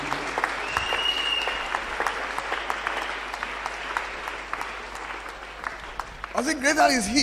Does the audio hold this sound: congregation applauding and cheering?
yes